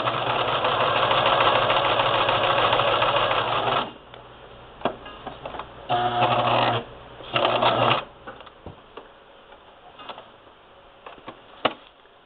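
A sewing machine stitches fabric through plastic at stitch length 9 with tension near 2.5. It runs in a steady loud burst for about four seconds, then two shorter runs follow amid quieter handling clicks.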